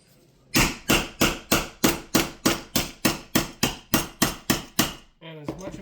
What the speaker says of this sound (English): it's always good to have a sacrificial wood chisel for these things